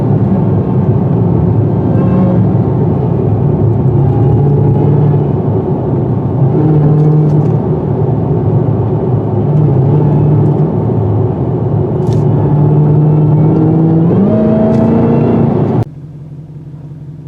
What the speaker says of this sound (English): What a fantastic machine and what a fantastic engine.